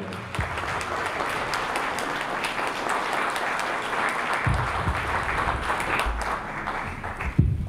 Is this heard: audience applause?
yes